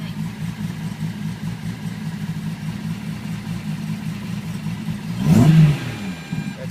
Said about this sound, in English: It's very free revving.